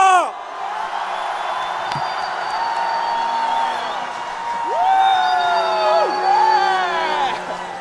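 A large crowd at a political rally in Gwangju cheers, whoops and shouts in a sustained, loud roar, with rising yells standing out and swelling toward the end.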